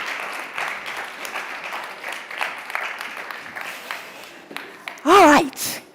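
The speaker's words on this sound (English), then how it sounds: "You'll be applauded as you walk off the stage." Audience applause fills a conference main stage hall at a gender equality forum as speakers walk off, a steady dense clapping wash, with a brief voice and sharp tonal burst near the end.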